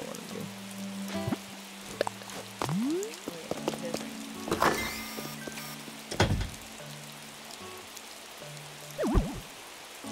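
Rain falls outside in Animal Crossing: New Horizons as a steady soft patter, with scattered playful game chimes and bouncy effects over it.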